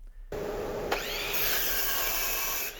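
Router with a template and router bit recessing a hole in a wooden shelf, a steady close whine and rough grinding of the cutter biting into wood after a brief quiet start.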